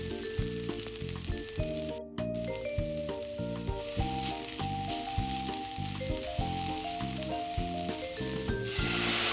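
Vegetables sizzle steadily in a hot pan, a continuous crackling hiss that runs the whole time beneath a tuneful musical backing.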